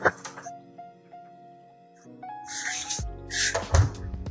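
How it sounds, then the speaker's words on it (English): An apartment door in a high-rise residential tower swings shut with a solid low thud near the end, after faint creaking and squeaky tonal scrapes from the hinges and frame. "So if you close this door, right, like that"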